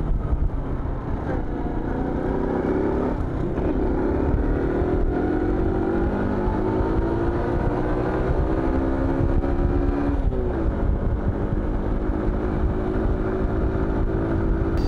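A Honda City 100 motorcycle engine pulling uphill, its steady drone climbing in pitch as it accelerates, with a brief dip and rise, loud and continuous under wind and road noise.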